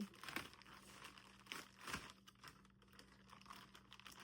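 Quiet crinkling and crackling of vacuum-sealed plastic packaging being pulled open, with a few sharper rustles and tears amid soft handling noise.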